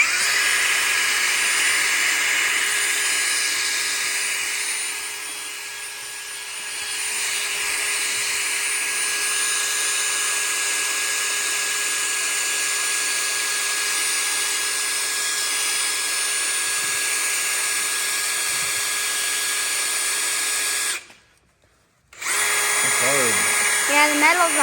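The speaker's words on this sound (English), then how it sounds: "my dad is gonna drill a hole and we're gonna put a nail in it to make it seal" Power drill boring a hole through a metal pipe, a steady high whine that runs continuously, dips briefly in the middle, cuts out near the end, then restarts.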